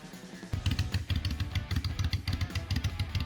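A Yamaha Virago 1100 motorcycle engine starts up and runs with a close, loud, lumpy rhythmic thumping, with no voices.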